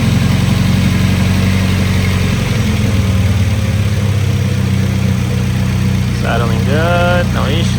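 A 1993 Nissan 240SX engine idles steadily and loudly up close, a constant low rumble that settles slightly partway through, while a voice speaks briefly over it near the end.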